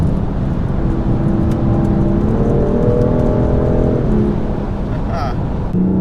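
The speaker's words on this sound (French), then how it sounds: "dans cette voiture là on a l'échappement M Performance, donc on a une sonorité assez sympa" BMW M5 LCI 2021 with an M Performance exhaust, driven on the Spa-Francorchamps circuit: a loud, steady engine drone with rising tonal harmonics as it pulls, heard from inside the car continuously throughout.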